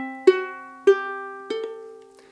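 Ukulele plucks the opening measure of the Campanella etude, three distinct ringing note onsets about half a second apart with sustained overlapping tones, heard alone and close.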